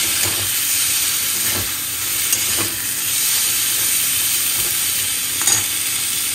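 Eggplant pieces frying in oil, a loud, steady, close hiss of sizzling with a few soft stirring knocks and no voices.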